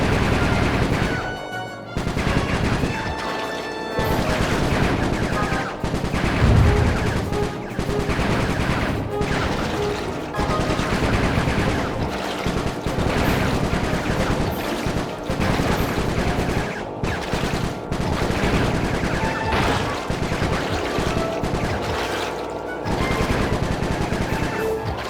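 Rapid, sustained gunfire and machine-gun bursts fill the action of the Sly 3: Honor Among Thieves video game, loud and dense throughout with brief gaps and occasional heavier booms.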